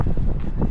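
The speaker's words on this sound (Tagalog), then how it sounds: "Grabe, mahangin." Steady cold wind in Taiwan buffeting the microphone, a low, rough rumble filling the whole short moment without a break.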